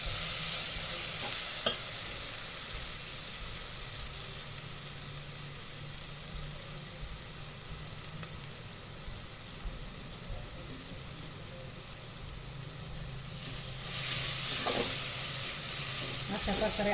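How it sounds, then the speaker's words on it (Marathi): Garlic and grated coconut sauté in a pan with a continuous close sizzle and hiss, broken by an occasional scrape of stirring and swelling a little near the end. "हा बघा, छानपैकी आपण आता हे लसूण खोबरं परतवून घेणार आहे."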